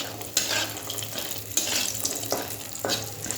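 Bori, lentil dumplings, frying in oil until deep red, a continuous crackling sizzle broken by several scraping stirs and light clinks of a utensil on the pan.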